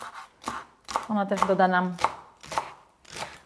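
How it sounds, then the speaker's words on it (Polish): A kitchen knife chops celery on a board for a spring green cream vegetable soup, a string of crisp, evenly spaced cuts close to the mic while someone talks over them. "I w międzyczasie jeszcze pokroję seler"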